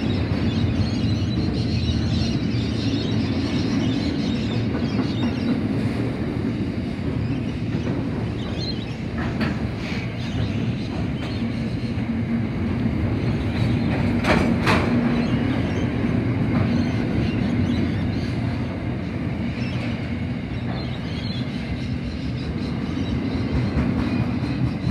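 Passenger trains rumble past on the railway at Chester Hill, a steady loud rolling roar with clickety-clack wheel noise and occasional squeals, continuous throughout with no voices.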